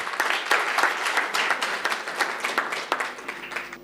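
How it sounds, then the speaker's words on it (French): An audience at a startup pitch competition final applauds a finalist, a dense burst of many hands clapping at close range, holding steady and then thinning slightly toward the end. "Des applaudissements aussi pour Massa."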